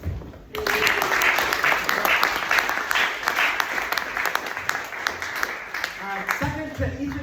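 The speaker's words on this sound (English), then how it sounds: "I would like to end the Agents Hackathon with chorus after chorus of applause" Hackathon audience applause swells suddenly and holds loud and dense for several seconds, a crowd of hands clapping steadily before tapering off near the end.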